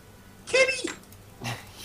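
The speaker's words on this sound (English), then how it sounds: "he's just meowing his little fluffy head off" A pet cat meows near a game of Divinity: Dragon Commander, two drawn-out cries with a short gap between, the first louder and rising, heard over quiet background noise.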